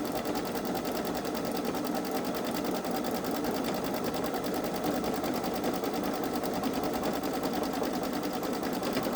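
A Babylock Solaris 3 embroidery machine stitches a design, giving a steady, rapid mechanical whirring and needle chatter that runs evenly and nearby without a break.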